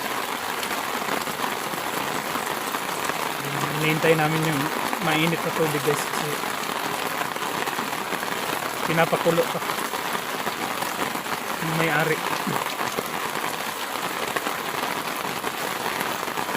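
Heavy rain hisses steadily on surfaces throughout, a constant dense wash while people talk over it intermittently.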